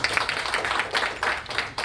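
A tech-talk audience clapping for a volunteer coming up, a brief burst of fairly dense hand claps in pulsing waves, close and moderately loud.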